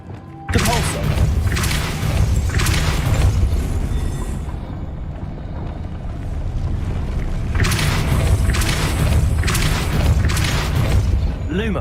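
The Depulso spell is cast in the video game Hogwarts Legacy, producing heavy booming thuds and whooshing blasts in two clusters, loud and close, with a voice audible between them.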